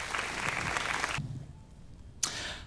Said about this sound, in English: Please give a round of applause for StanleyYuan.